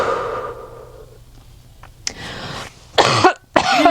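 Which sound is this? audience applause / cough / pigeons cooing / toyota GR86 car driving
cough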